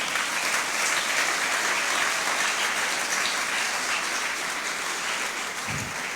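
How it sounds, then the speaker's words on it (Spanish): A church congregation applauds in a steady, dense wash of clapping that fills the room for several seconds, with no talking over it. "Denle un aplauso al Señor por eso."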